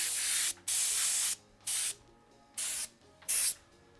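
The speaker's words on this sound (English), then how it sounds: "I think it's 60 PSI for my airbrush right now. And I'm using an Iwata Eclipse airbrush" An Iwata Eclipse airbrush at 60 PSI sprays in five short hissing bursts with brief pauses between them, close and alone.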